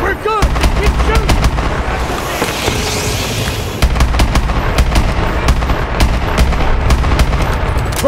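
Heavy gunfire in Call of Duty Advanced Warfare during an attack on a nuclear facility: loud, continuous automatic bursts with sharp individual shots and booming impacts, soldiers' shouts mixed faintly underneath.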